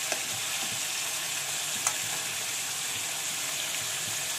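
Food sautés in a kadai with a steady close sizzle and a few soft stirring clicks, continuous and without talk.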